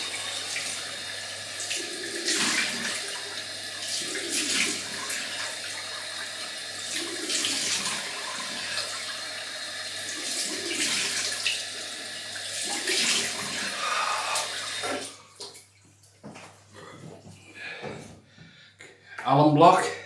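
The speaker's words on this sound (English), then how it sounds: "Cold water rinse." Cold water runs steadily from a bathroom tap for a shaving rinse, a continuous hiss broken by splashes, then stops, leaving quieter handling noises and a few brief sounds near the end.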